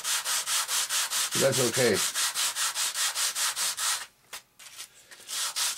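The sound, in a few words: sanding RC airplane parts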